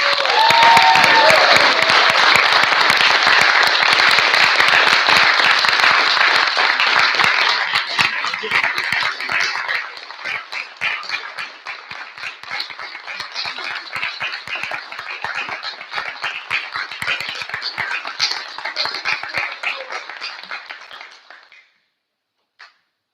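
Audience applause at a conference swells loud and dense at first, then thins into scattered, individual claps that fade out near the end, with a brief voice at the start.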